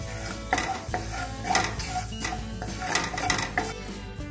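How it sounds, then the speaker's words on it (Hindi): Cumin seeds roasting in hot oil while a metal spoon stirs the pan, giving repeated sharp clanks and scrapes at an uneven rhythm over a light sizzle, close and fairly loud, with no speech. "जीरे को अच्छे से भुनने देंगे।"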